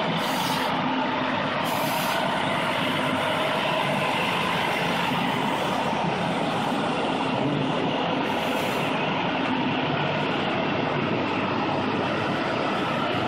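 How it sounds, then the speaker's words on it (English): Washington, D.C. fire trucks rumble loudly and continuously close by, with a dense engine roar and brief hissing bursts like air brakes. "here we have Washington, D.C. fire trucks."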